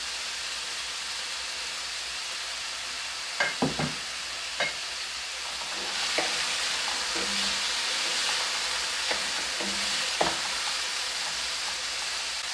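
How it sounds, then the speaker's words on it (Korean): Pork chop steak frying in olive oil over low heat, a steady hiss with a few sharp crackles and pops near the middle; no one speaks. "불 약한 불로요 타니까는 이렇게 불을 조정하면서 이렇게 볶아주세요"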